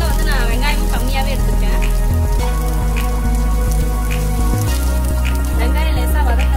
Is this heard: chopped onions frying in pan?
yes